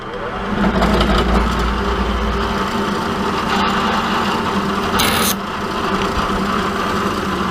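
A power drill whirs and grinds steadily, drilling and tapping holes in metal at close range while building a rotary welding table, a continuous mechanical hum with rasping scrapes.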